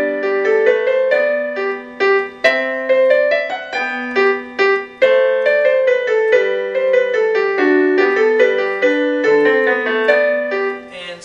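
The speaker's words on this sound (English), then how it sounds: "we're working on a Minuet in G by Bach" Solo piano plays Bach's Minuet in G, a light, dance-like minuet in steady triple time, clear single notes over a simple bass line, close and alone.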